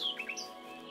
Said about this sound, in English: The birds. I love the sounds in this game.